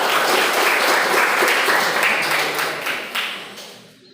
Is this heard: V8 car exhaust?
no